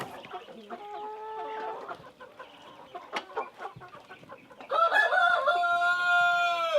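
Chickens on a small family farm cluck in short bursts, then a rooster lets out one long, loud crow close by.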